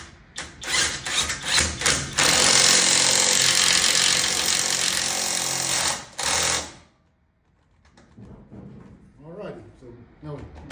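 An Alloyman 1/2-inch impact driver installs a nut with a loud, continuous rapid hammering rattle lasting several seconds, cutting off, firing again in a short burst, then stopping before a person talks.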